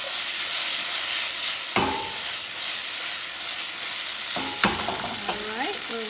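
Food with two tablespoons of oyster sauce is stirred and tossed in a frying pan for a bitter melon and salmon dish, with a steady sizzle under scraping spatula strokes and a few sharper clatters near the end. Nobody speaks.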